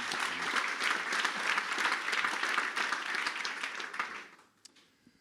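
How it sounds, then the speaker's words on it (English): An audience at the Front Zurich 2016 web conference lightning talks applauds warmly for the next speaker, dense clapping holding steady for about four seconds before quickly dying away to a few scattered claps. "give a warm applause to our next speaker."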